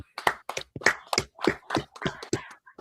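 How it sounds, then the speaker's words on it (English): A small group claps in a rough, uneven rhythm at a scripture class gathering, close and fairly loud, about a dozen distinct bursts over a few seconds. "Y'all clap it up."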